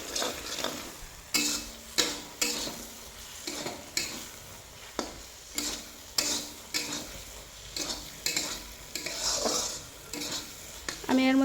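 Spiced peas frying in oil with cumin and being stirred, repeated spatula knocks and scrapes against the pan at a regular pace over a steady sizzle, with a louder hiss rising near the end.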